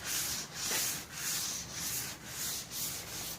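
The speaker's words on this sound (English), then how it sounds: "you can feel it as you cross it with the sandpaper, and 500 grit's going to be good for this" Slow, easy strokes of 500 grit sandpaper wet sanding primer on a 1966 Ford F1, a soft rhythmic hiss rising and falling about every half second, close and steady with no talking.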